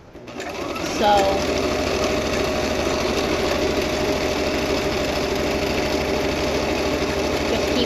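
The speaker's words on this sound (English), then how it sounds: "this is a stretchy fabric, so the zigzag will help give it some leeway when it stretches" A sewing machine zigzag-stitches stretchy T-shirt fabric with a steady, close, continuous mechanical whir throughout, while a voice speaks briefly near the start.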